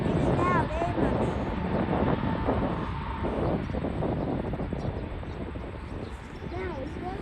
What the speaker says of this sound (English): Now it's going to be another plane.